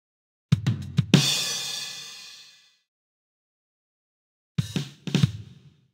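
Drum set in the Lamb Chop Loves Music game: a quick fill of drum hits ending in a crashing cymbal that rings out, then silence, then another brief burst of drum hits.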